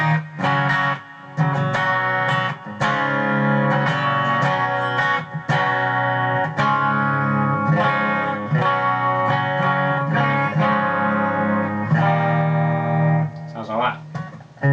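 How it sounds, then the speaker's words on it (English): Distorted electric guitar played through the bridge humbucker of an Epiphone Nighthawk Custom reissue, a dense, loud riff of sustained chords and notes running continuously with brief dips, alone without talk. "Bridge humbucker sounds like this."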